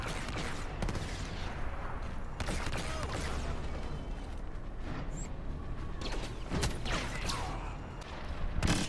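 Sniper shots from the X8 Night Sniper rifle in Star Wars Battlefront crack out as a few separated sharp reports, over a steady, rumbling battlefield din of distant firing and mechanical noise.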